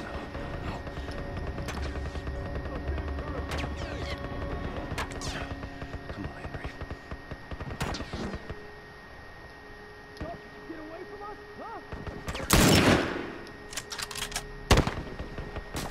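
Gunfire in The Last of Us, sharp broadband shots scattered across the clip, with a louder burst of impacts near the end, set against steady game ambience and occasional talk.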